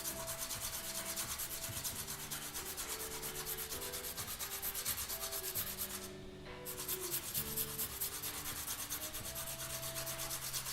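Steady rhythmic rubbing of sandpaper against a drawing tool's small hard tip, honing it to a point, close and continuous, with a brief pause near the middle.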